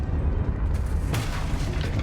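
A Confringo fire spell explodes in the Hogwarts Legacy video game, giving a deep, heavy boom over a sustained low rumble, with a sharp crackling burst partway through before it settles back into the roar.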